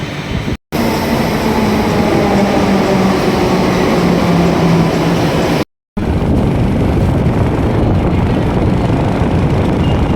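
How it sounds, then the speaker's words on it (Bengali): A metro train arriving at a platform, a loud continuous rumble and rolling roar close by, with brief cuts in the sound. "এখন কিন্তু আমরা মেট্রোর জন্য দাঁড়িয়ে আছি মেট্রো আসছে"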